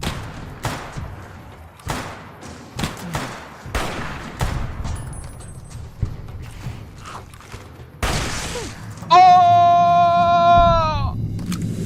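Gunfire in Fallout New Vegas, played with a Wild Card mod list: a string of sharp, loud shots and bursts, some close together, then a sustained rising mechanical whine near the end, with voices faintly underneath.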